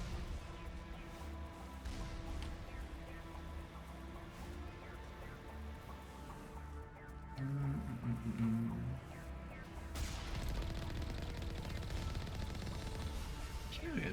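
Turrets fire during a Mass Effect Legendary Edition battle, a dense, steady crackle of gunfire and impacts that swells louder partway through, with no break in the noise.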